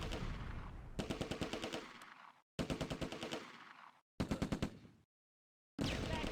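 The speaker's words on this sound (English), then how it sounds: "Both mortars open fire missions on the Schützen emerging from the orchard" Bursts of rapid machine-gun fire in the WWII strategy game Close Combat A Bridge Too Far, loud and close, coming in several separate volleys with abrupt silent gaps between them.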